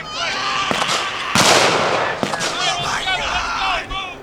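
Grenade blasts during a WWII battle reenactment at an armor museum encampment, several sharp bangs and a louder burst heard at middle distance while someone narrates over them.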